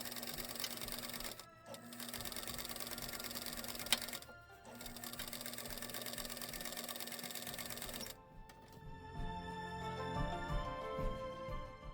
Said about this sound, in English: So you're gonna go from here and then start sewing.